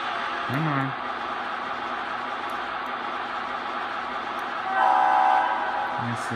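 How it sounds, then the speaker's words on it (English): A short model train horn on a diesel engine sounds once near the end over a low running rumble, after a brief voice early on. "That's the sound of the horn."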